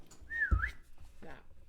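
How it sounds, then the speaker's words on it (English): A person whistles a short rising-and-falling tune at a tabletop role-playing session, one clear whistled phrase close to the mic, followed by a brief softer sound. "I whistle."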